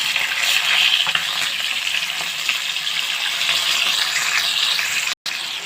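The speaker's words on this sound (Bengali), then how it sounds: "মাছগুলো আমি এপিট উপিট করে ভেজে নিয়েছি" Whole fish fry in hot oil in a pan after being turned, giving a continuous bright sizzle and crackle at close range with no talking, cut by one brief dropout near the end.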